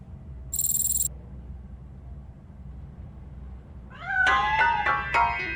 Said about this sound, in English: That cat must be hiding inside. Let me lure it out.